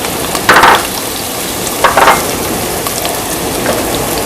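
Diced onion sizzles in a hot pan for one-pot pasta, with two short bursts of crackle as the pieces hit the oil, then a steady, fainter frying hiss that carries on alone.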